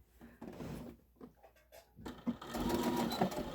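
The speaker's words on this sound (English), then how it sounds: "So I'm going to start stitching." A sewing machine stitches a strap onto a tote bag in short stop-start bursts, then runs in a longer steady whir, close and fairly quiet.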